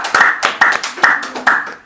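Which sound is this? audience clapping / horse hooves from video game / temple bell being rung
audience clapping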